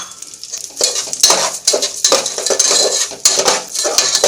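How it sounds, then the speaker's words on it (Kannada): Roasted moong dal tipped into a pan with ghee for sweet pongal, with pot scraping, utensil clinks and stirring close up, plus a light sizzle throughout and no talk. "ಹೆಸರು ಬೇಳೆ ಹಾಕ್ತಾಯಿದ್ದೀನಿ"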